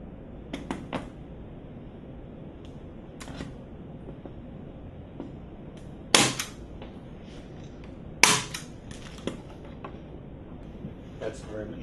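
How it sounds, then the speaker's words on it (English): A staple gun driving staples through excess tissue to fix a swine trachea to a board: two sharp, loud snaps a couple of seconds apart stand out over quieter handling clicks and background murmur. "I'm going to take my staple gun and just staple into some of the excess tissue."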